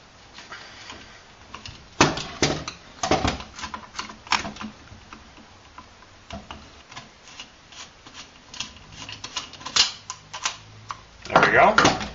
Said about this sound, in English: take a flathead screwdriver, like so, and insert it up into the grip